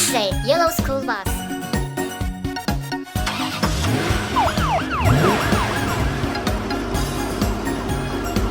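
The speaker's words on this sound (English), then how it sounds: "This is a black police car." Police car siren from a toy car animation, a wailing tone that rises and falls repeatedly over cartoon music and effects, loud and steady throughout.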